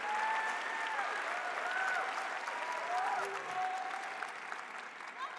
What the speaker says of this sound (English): So a huge applause for all of you in this room